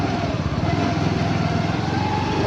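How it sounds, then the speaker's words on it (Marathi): A TVS Jupiter BS6 scooter engine runs close by with a steady, even buzz that holds for the whole moment, with no pauses or revving. "आपण ब्रेक दाबून"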